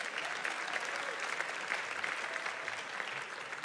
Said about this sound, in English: Let's give our administrators a big hand of applause.